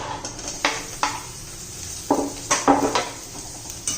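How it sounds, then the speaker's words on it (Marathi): Tomato pieces tossed with browned onions in a pan while cooking ridge gourd, heard as a series of scraping, clattering stirs with a light sizzle underneath, moderately close and without voices. "टोमॅटो पण एकदम मऊ पडेपर्यंत चांगला परतून घेऊया"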